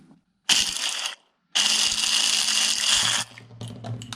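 A Philips Viva Collection HR1611 hand blender, just repaired with super glue, runs in two loud harsh bursts, a short one then a longer one, whirring close up before cutting off into quieter clatter.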